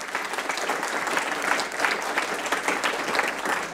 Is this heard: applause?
yes